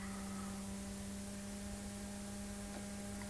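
A Kubik coil gives off a steady, faint electrical hum under a wash of static hiss, an unbroken drone with no speech.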